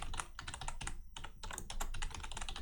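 Quiet, close-up clicking of fingers typing an email address on a computer keyboard, a rapid, uneven run of keystrokes with one brief pause partway through.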